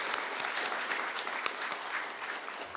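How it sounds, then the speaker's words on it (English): An audience at a city State of the City address gives a warm round of applause, a continuous, fairly soft patter of many hands heard from a distance, tapering slightly at the end. "Let's give them all, again, a warm round of applause for their commitment to our community."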